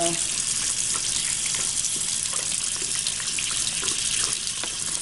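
Water pours steadily into a Haplopelma tarantula enclosure, a continuous close splashing trickle that runs without pause for the whole stretch.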